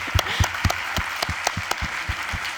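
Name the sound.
audience applause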